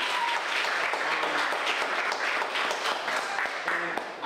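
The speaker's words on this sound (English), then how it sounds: "Can we give them all a round of applause?" Audience applause at a poetry reading, a dense, steady wash of clapping that holds for the whole stretch with a brief voice or cheer near the end.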